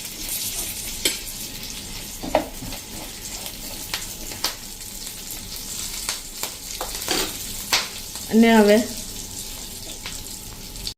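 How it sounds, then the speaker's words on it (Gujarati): Curry leaves crackle and sizzle in hot oil as a tempering on a slow flame for a South Indian chutney. Scattered pops and spits run throughout, and someone speaks briefly near the end. "વઘાર છે સ્લો ફ્લેમ ઉપર કૂક થાય"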